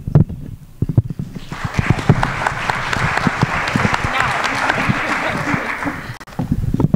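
Audience applause at a school board candidate forum, a steady wash of clapping from a crowd that builds and holds for several seconds, framed by brief talk at the start and end.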